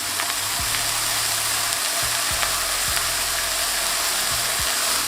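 Burger patties searing in a lightly oiled skillet give a loud, constant close-up sizzle, with a few low thumps of the pan or spatula scattered through, no voices.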